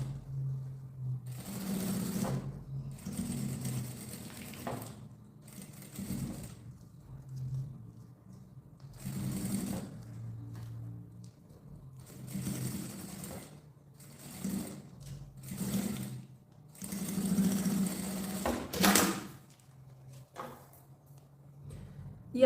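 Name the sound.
sewing machine stitching folded bias binding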